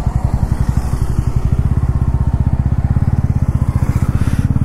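A TVS Ronin motorcycle engine runs steadily at a fast, even idle-to-cruise firing rhythm, loud and close throughout with no talking, on a long winter road ride.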